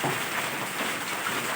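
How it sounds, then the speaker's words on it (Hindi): Stormy rain in Chowki, Azad Kashmir, a steady broad hiss of downpour with no distinct drops, moderately loud and continuous. "बहुत तूफानी बारिश शुरू हो चुकी है।"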